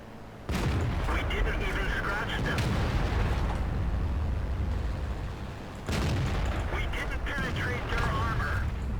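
Two heavy booming cannon shots from a Foch 155 tank destroyer in World of Tanks, each a loud blast followed by a long rumbling decay, spaced about five seconds apart under someone talking.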